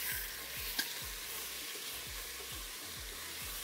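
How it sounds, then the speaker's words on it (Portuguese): Beef sears in a pan of hot olive oil with a steady, loud sizzle and crackle, while a spoon or utensil stirs and scrapes with regular strokes and gives one brief sharp clink. "Azeite quente. Vai, né? Carne na panela."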